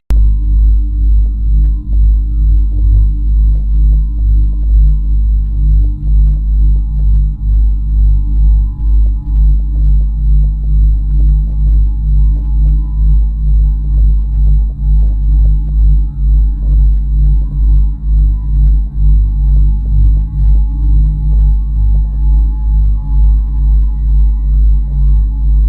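NASA's sonification of a red giant star in Orion is a loud, steady low drone with a regular throbbing pulse repeating evenly for the whole stretch, alone and without voices.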